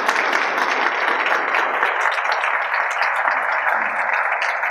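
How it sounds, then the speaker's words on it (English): An audience at a Get Tested Coachella Valley event applauds a speaker, Senator Barbara Boxer, with a steady wash of many hands clapping at even volume throughout, with no talk over it. "Let's have a round of applause to this visionary leader."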